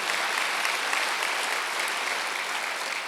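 Sustained applause from a church congregation at a Wednesday worship service, dense and even clapping throughout with no breaks.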